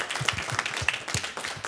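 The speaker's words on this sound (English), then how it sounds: "I just want to give these gentlemen a round of applause." Audience at a JCC Krakow event applauding with scattered, fairly faint hand claps in an uneven patter.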